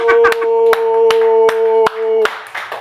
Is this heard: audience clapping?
yes